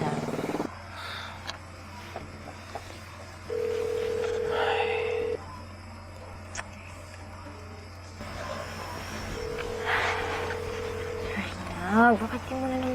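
A phone call being placed: two long, steady ringing tones separated by a pause, heard over a low background hum and scattered sounds, with people talking nearby.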